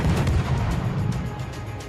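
Naval guns fire aboard a warship in the World of Warships video game, heard as a heavy, rumbling boom with a deep low roll that fades over two seconds.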